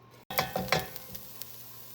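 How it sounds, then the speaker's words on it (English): Onions sautéing in oil for a soup, a soft steady sizzle punctuated by a few scraping stirs and clinks of a utensil near the pan. "these onions are sauteing. You can hear them sizzling"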